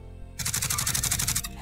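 A rapid, evenly spaced burst of automatic gunfire in the video game Warzone bursts in after a short quiet lead-in, loud and close, then cuts off abruptly.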